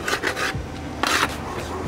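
A shopping cart grinds along a street ledge in two harsh scraping bursts, each a rough metallic rasp lasting a fraction of a second, heard up close with no talk.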